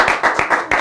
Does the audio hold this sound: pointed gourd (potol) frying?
no